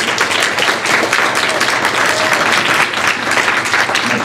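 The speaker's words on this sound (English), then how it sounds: "give Justin a big round of applause" An audience at a student-run assistive technology conference applauds a speaker, dense continuous clapping from a roomful of people, loud and sustained for the whole stretch.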